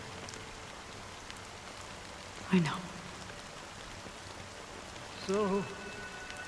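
Gentle rain hisses steadily in the game Honkai: Star Rail, a faint, even patter that continues under brief spoken lines.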